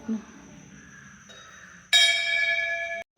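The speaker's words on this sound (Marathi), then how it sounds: "ते घंटी वाजव ना माझ्यावर" A temple bell rung once gives a bright, sustained ringing tone that lasts about a second before cutting off abruptly, preceded by faint background voices.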